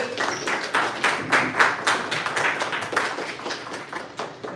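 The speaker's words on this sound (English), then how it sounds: "Let's stand and give a warm, rousing round of applause." A live audience at a tech founders' fireside chat event breaks into a sustained round of applause, dense clapping filling the room at moderate loudness without a pause.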